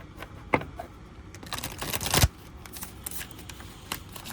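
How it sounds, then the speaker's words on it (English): Slippery tarot cards being shuffled by hand, giving a quiet run of riffling, flicking card sounds with a few sharper snaps and a denser burst in the middle, close and alone. "These cards are very, very slippery. I don't have the biggest hands, so it's kind of hard for me to shuffle."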